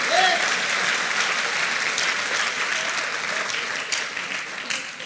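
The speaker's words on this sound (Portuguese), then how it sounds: "Você pode aplaudir Jesus nessa noite?" Church congregation applauds during an evening sermon, a full, continuous burst of many hands clapping that stays loud and even, easing slightly near the end.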